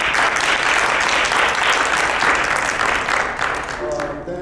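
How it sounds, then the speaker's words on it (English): A theatre-in-the-round audience applauds steadily for the event committee, a dense, continuous wash of many hands clapping close and loud that fades slightly near the end. "Could we please clap for the committee?"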